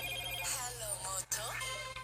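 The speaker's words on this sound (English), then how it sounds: "I'm getting a phone call" A phone rings with an incoming call, a faint repeating electronic ringtone against steady background hum, with a short break midway and no clear talking.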